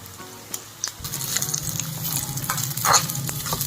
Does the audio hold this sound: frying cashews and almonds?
yes